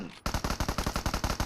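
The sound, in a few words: gunfire in a shooting video game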